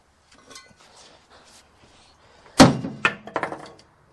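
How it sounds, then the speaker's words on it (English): A hammer strikes a part on a burned car with a single hard metallic ring, followed by a few lighter knocks and rattles nearby, with quiet shuffling before it. "Oh, I got my hammer."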